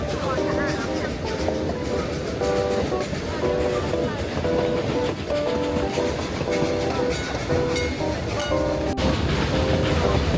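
Puffing Billy steam train running on rails between Belgrave and Lakeside, a loud continuous rumble with rhythmic clickety-clack of wheels over rail joints, heard from on board throughout.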